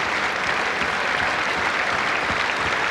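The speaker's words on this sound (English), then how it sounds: "And this family, which is conference, are cheering him." A conference hall crowd at a Conservative Party conference applauds and cheers steadily, a dense, loud, continuous wash of clapping with no pauses and no talk.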